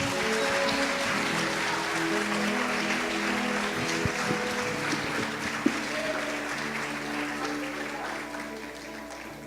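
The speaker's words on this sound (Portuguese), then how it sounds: "Então aplauda o nosso Senhor Jesus Cristo." An audience at a youth church conference claps in sustained, moderate applause that fills the room and tapers off gradually, with faint sustained music tones underneath and a brief sharp knock partway through.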